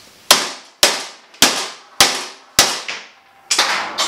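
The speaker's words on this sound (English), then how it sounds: "let's just try to hammer this thing." A hammer strikes a go-kart steering wheel in a garage, six sharp metallic blows landing roughly every half second, each loud and close with a brief ringing decay before the next hit.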